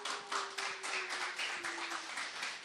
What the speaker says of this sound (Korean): 인사할 때 그래도 박수 쳐주시면 고맙겠습니다